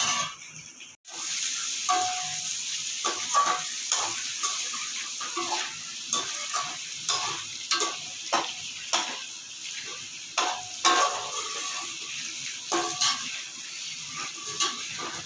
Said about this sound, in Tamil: இதுலேயே நம்ம வெங்காயம் எல்லாத்தையும் போட்டு வதக்கி அது ஒரு பேஸ்ட் மாதிரி நம்ம ரெடி பண்ணிக்கணும்